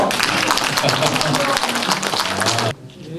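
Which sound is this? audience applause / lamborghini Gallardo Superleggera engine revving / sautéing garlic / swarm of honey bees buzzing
audience applause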